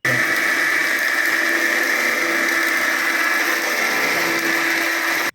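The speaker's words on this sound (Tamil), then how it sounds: "இதை நம்ம அரைச்சி எடுத்துப்போம்." Mixer grinder grinding onion, green chilli, mint, coriander and spices into a paste for chicken donne biryani, a loud, steady high-pitched motor whine held for several seconds before cutting off.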